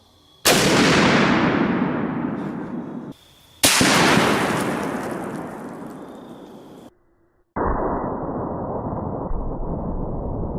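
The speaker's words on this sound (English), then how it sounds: "Let's hit it again with the 50 BMG." A .50 BMG rifle loaded with armor-piercing incendiary tracer rounds fires at an Atlas stone outdoors, giving two huge, close blasts, each with a long rolling echo, then a quieter steady rumble.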